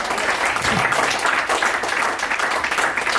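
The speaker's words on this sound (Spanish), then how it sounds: "Denle un aplauso al Señor con todos." A church congregation claps together in sustained, dense applause that stays loud and even throughout, with faint voices mixed in.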